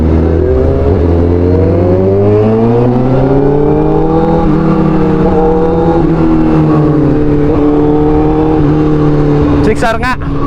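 A Yamaha R6 sport motorcycle rides alongside, its high-revving engine droning loudly and steadily with rising and falling pitch throughout, close by over road and wind noise; no one speaks.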